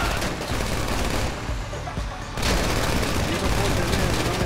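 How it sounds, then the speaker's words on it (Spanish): Sustained automatic gunfire in the video game Grand Theft Auto V during a gang attack, loud and continuous with a brief lull partway through, under game noise and some talk. "me están disparando"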